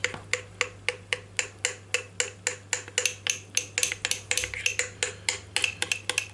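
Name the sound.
mixing butter into joconde sponge batter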